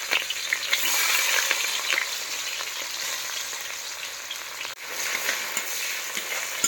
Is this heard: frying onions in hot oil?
yes